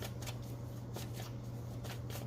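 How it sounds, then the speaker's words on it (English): Tarot cards being shuffled by hand in repeated quick riffling bursts, close and fairly loud over a steady low hum, with no talking. "I had a comment on a video that I shuffle too much"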